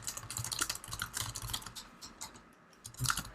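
Typing on a computer keyboard while browser code is written, an uneven run of soft, close key clicks with a brief pause before one more burst of keystrokes.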